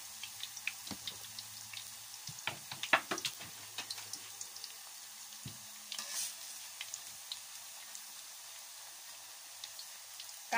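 Thin taro slices frying in boiling palm oil give off a quiet, steady crackle, with scattered sharper pops and clicks of spattering and stirring early on, then a calmer hiss; no one talks.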